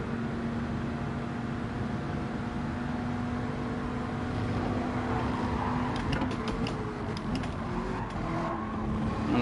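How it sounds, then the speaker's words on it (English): A race car engine in the Gran Turismo 7 racing game drones steadily throughout, a continuous mechanical hum that swells slightly near the end as the car closes in, with faint creaks over it. "the noise of the car just sneaks up behind us"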